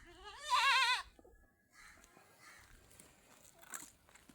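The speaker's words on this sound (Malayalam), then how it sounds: "ക്രോസ് ബ്രീഡ് ആടും കുട്ടികൾ." A crossbred goat kid gives one loud, wavering bleat up close, followed by quieter shuffling and faint farmyard noise.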